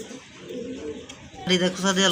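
Domestic Bengali pigeons coo softly and repeatedly at close range, the calls swelling louder toward the end, with people talking over them.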